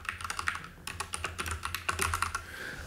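Fingers type on a computer keyboard in quick, irregular bursts of close, crisp key clicks, with a brief pause near the middle and no voices.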